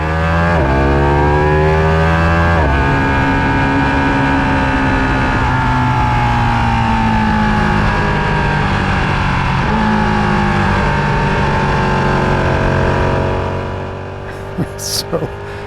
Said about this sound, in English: Let's listen to the Ducati coming out of pit lane here.